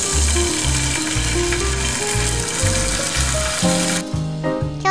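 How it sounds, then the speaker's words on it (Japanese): White fish searing over high heat in two tablespoons of olive oil in a frying pan, a loud continuous sizzle with rhythmic scraping and tapping, quieting suddenly near the end. "強火でフライパンにオリーブオイル大さじ2を入れて魚を焼いていきます。"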